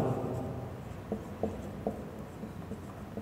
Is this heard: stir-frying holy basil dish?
no